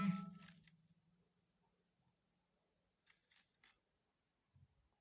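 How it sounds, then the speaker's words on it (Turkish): Scissors snip through material by eye, a loud cut at the start fading out, followed by a few quiet, separate snips and rustles later on. "Şöyle şöyle göz kararı kesiyorum."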